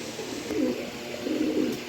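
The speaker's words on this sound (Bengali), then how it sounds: "এখানে 3 পিস নর কবুতর দিলাম" Two soft throaty coos come from pigeons, male birds among them, each a short rolling swell about a second apart over a faint steady background hiss.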